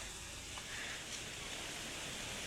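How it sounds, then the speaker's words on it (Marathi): Heavy rain falls on a tomato field during spraying, a steady, even hiss that stays faint and unbroken throughout, with no voices. "आला पाऊस चला घरात पाऊस आला जोरात पाऊस आला"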